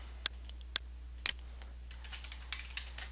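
A computer keyboard being typed on to enter a memo name in list-editing software, a few sharp, isolated key clicks followed by a lighter, quicker patter, quiet and close over a low steady hum.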